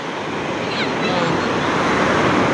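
Strong ocean surf crashes on a beach, a loud, broad wash of breaking waves that swells and stays steady, with wind buffeting the microphone.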